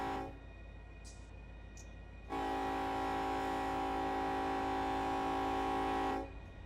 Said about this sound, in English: We'll watch the train go by